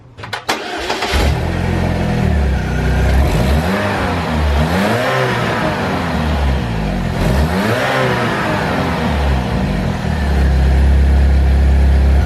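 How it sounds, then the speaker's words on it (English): A car engine with its stock intake airbox reinstalled starts up, then revs up and down in several loud, rising and falling sweeps before settling into a steady idle, close to the engine with no talk. "I figure now we can give it a couple of revs and we can see how much lamer and different it sounds."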